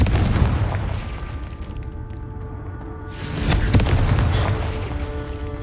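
A Confringo fire spell blast in the Hogwarts Legacy video game, a heavy booming burst swelling over a dense rumbling game soundscape, loud and continuous.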